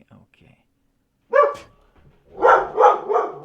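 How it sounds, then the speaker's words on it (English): Dog barking near a player's microphone during a Dungeons & Dragons Online session, one sharp bark followed by a pause and then three loud barks in quick succession, with a brief spoken word early on. "Apologies for the dog barking."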